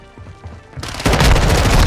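A standard gun fired in a video game, a dense loud burst of rapid shots kicking in about a second in after quieter game sounds.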